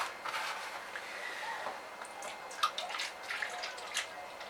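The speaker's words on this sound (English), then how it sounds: "And then I pour the milk into this one to 200 millilitres as well." Milk poured into a measuring jug up to 200 millilitres, heard as a close, thin trickling pour with small splashes and drips, continuing steadily for several seconds.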